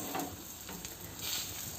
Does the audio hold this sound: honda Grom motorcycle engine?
no